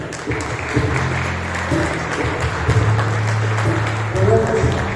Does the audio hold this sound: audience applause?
yes